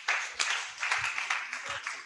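Audience clapping at an award ceremony for a community service award, a short burst of dense, close applause with sharp individual claps in an uneven rhythm.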